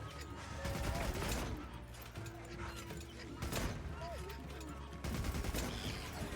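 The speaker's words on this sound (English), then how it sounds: "why is my machine gun not constantly firing?" Rapid bursts of machine-gun fire in the video game Monster Hunter Wilds, coming in stuttering volleys separated by short gaps, mixed with game effects and creature noises over a busy, loud backdrop.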